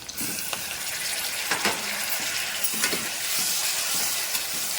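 Tomatoes sizzle and crackle steadily in hot oil with onions while frying for a soybean biryani, a continuous close frying hiss broken by a few sharper pops and stirring sounds, with no talking.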